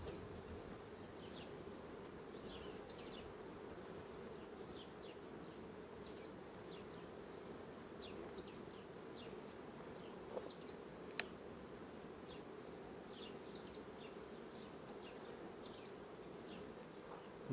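Honey bees buzz steadily around a hive frame with brood during a nectar flow, a dense continuous hum with individual bees passing close by, no talking.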